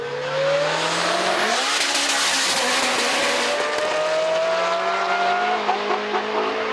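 A Hyundai Tuscani Elisa V6 fitted with a titanium exhaust and intake, roaring loud and close as it revs up and holds a strong rising engine note for several seconds.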